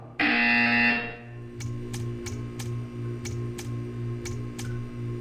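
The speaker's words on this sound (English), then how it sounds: "You will hear a buzzer." A loud, harsh electronic buzzer in the video game Portal 2 blares for about a second, followed by a low hum and a series of sharp, evenly spaced ticks.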